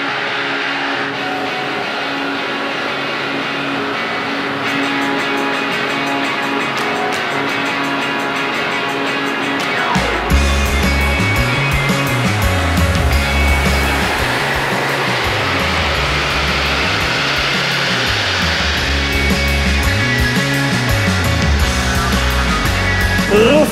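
A Honda Civic Si engine, remapped and fitted with a sports air filter, runs on a dynamometer: a loud steady drone that jumps into hard revving at ten seconds, rising and falling in repeated pulls.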